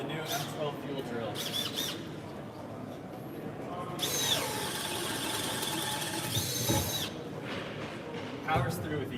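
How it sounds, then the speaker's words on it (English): A Milwaukee M12 Fuel cordless drill runs in one long, loud, steady whine for about three seconds, boring through without stalling, after brief earlier bursts, with a noisy trade-show crowd murmuring behind it. "Now we'll show you the new M12 Fuel Drill."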